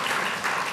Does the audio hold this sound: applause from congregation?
yes